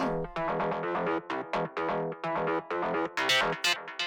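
An EBM techno synth line run through a low pass filter plays a fast, steady stream of short plucked notes, loud and upfront, brightening near the end.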